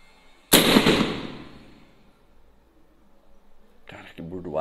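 Rifle fired at a metal target plate, a single sharp loud crack that decays over about a second and a half, followed by quiet and then someone speaking.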